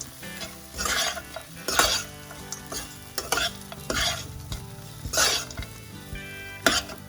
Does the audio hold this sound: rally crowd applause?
no